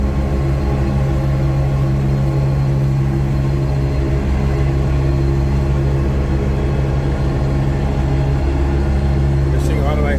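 A John Deere 3046R compact tractor engine runs steadily while mowing, a loud, constant droning hum close by, with a brief higher whine near the end.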